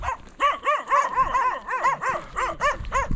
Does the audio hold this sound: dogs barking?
yes